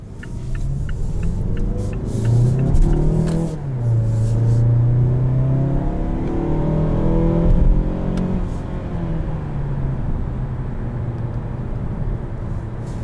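Naturally aspirated 2.5-litre engine of a 2021 Mazda6 Touring pulling under acceleration, a steady low rumble with rising and falling engine tones over about thirteen seconds, heard from inside the cabin without talk.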